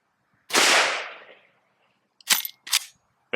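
A Henry Big Boy steel lever-action rifle fires a .357 Magnum round: one sharp, loud outdoor crack with a decaying tail, followed by two quick metallic clacks as the lever is cycled.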